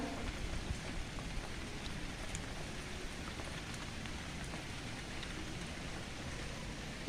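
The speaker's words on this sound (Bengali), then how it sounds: "দেখেন কিরকম বৃষ্টি হইতেছে, এরকম ঝিরি ঝিরি বৃষ্টি" Light drizzle falls steadily onto a pond, a soft, even hiss of raindrops on water that continues without pause and without any voices.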